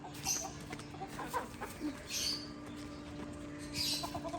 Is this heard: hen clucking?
yes